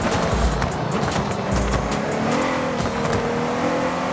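Race car engine revving hard with a loud, steady roar and shifting pitch, with some tire squeal, in a GT racing video game; no one speaks.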